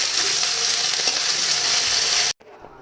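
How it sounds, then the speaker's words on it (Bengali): Vegetable stalks (Lajna/drumstick-type) frying lightly in hot oil give a loud, steady, close hiss that runs unbroken for over two seconds, then cuts off abruptly to a quiet room. "ভেজে নিই ডাঁটাগুলো।"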